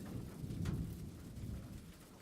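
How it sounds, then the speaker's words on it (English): A summer storm heard as steady, low rumbling rain with a dull thunder swell, faint and distant, continuing without a break. "The storm."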